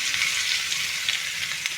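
Pumpkin and bitter gourd fry in a pan with a steady, close sizzle and crackle that holds evenly throughout, with no talking.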